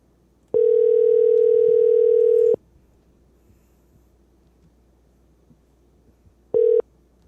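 A steady telephone dial tone sounds for about two seconds while a call goes out to a guest on a talk show, then a short second burst of the tone follows after a pause, over faint background hiss.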